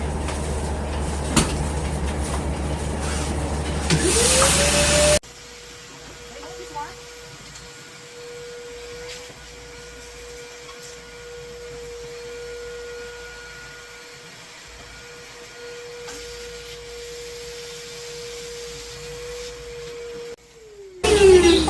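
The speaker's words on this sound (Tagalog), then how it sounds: "Tapos, attach mo sa vacuum." A vacuum cleaner motor switches on and whines steadily for about fifteen seconds during a washing machine tub cleaning, then cuts off; brief clattering and noise come before and after.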